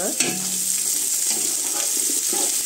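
Onions sizzle with hotdog in a frying pan while being stirred for Filipino pancit. A steady loud hiss of frying runs throughout, broken by a few scraping stirs near the start.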